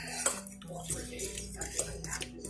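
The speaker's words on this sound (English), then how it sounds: "then we'll go and give it another stir" Cobbler batter is stirred in a bowl after salt is added, with light repeated clinks and scrapes of a utensil against the dish over a few seconds, close and fairly quiet, under a soft voice.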